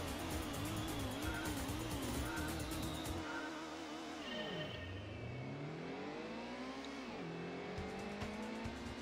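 Race cars on the Deep Forest track in the Gran Turismo video game roar continuously and loudly, engines revving and sweeping in pitch through gear changes, with tire squeal as they corner.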